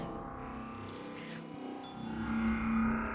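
Synthesizer tones from an Octatrack ring out and repeat in fading echoes, a delay trail smearing the notes together before a sustained tone swells near the end.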